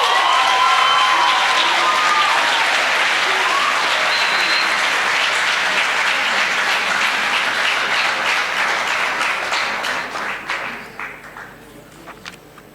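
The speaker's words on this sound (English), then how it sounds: "With a round of applause, let's all welcome Mr. Muhammad Ali." Loud, sustained audience applause at a graduation ceremony, a thick roll of many hands clapping together that holds strong for about ten seconds before thinning out and fading near the end.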